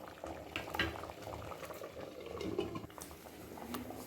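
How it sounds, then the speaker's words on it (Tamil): Eggplant, drumstick and mango sambar bubbling and simmering in a pot, a continuous soft gurgle with small pops, close by and with no talking. "இதை போட்டு சும்மா ஒரு ரெண்டு நிமிஷம் கொதிக்கட்டும்"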